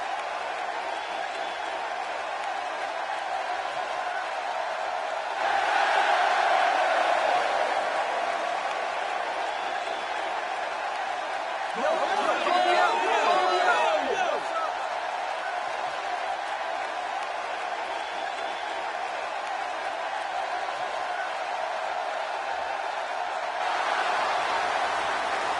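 Wrestling arena crowd roaring for Ryback's entrance, a steady wash of distant cheering that swells twice into louder bursts of applause and yelling.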